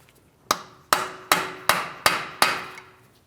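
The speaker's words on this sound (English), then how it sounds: "We're going to start tapping on this to break the axle free from our wheel bearing hub." Six sharp metallic hammer strikes on a punch against a Chevrolet Malibu axle, freeing it from the wheel bearing hub, at a steady, slightly quickening rhythm, each ringing briefly before the next, close and loud with no talking.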